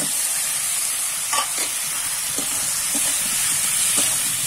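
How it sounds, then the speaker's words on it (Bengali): Pre-fried potato and cauliflower sizzle loudly in a kadai of fried spice paste, a continuous close hiss and crackle punctuated by occasional scrapes and clinks of a spatula stirring the pan. "ভেজে রাখা আলু ফুলকপি গুলো দিয়ে দিলাম।"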